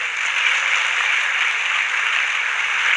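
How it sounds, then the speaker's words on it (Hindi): A crowd at an IBC business seminar speech gives steady, dense applause, a continuous hiss of many hands clapping at even loudness throughout, with no talking over it. "थोड़ा ताली बजाएं, उनका उत्साह बढ़ाएगा।"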